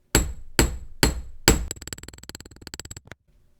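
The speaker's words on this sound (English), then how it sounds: "I might just hammer that a little bit more" Wire for a tree of life pendant struck with a hammer: four loud, separate, ringing blows, then a fast run of lighter taps that fades out, close up and alone.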